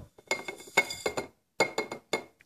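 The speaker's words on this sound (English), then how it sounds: "you're gonna take the sugar and put it into the jar" Sugar going into a glass jar, heard as a string of close, sharp clinks and taps against the glass in two clusters separated by a short pause, quiet between the hits, with no talk.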